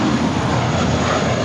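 An 11-year-old Spirit Airlines A320 airliner at Los Angeles LAX gives off a loud, steady broadband jet engine roar throughout, close and unbroken, with no voices.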